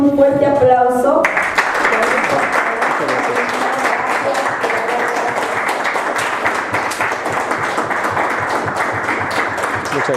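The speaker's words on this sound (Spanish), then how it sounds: "Que de verdad le brindamos un fuerte aplauso" A brief spoken line gives way to a strong, sustained round of audience applause at a conference question-and-answer session, loud and even for the rest of the time.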